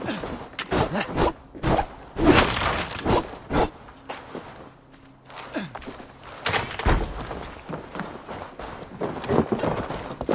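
Horse hooves thudding in irregular clusters as riders set off in Assassin's Creed Valhalla, loud and close, with brief pauses between bursts of footfalls and no clear talk.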